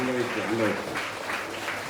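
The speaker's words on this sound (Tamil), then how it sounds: "நீங்களே கையை தட்டி மகிழ்ச்சியை தெரிவித்துக் கொள்ளுங்க" An audience at a gathering claps its hands, a broad patter of applause that rises under and after a voice speaking to the crowd.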